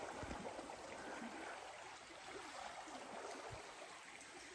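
A river flows steadily along the Silver Creek Pathway in Pere Marquette State Forest, a soft, continuous rushing wash with a couple of faint low bumps, heard alone without talk.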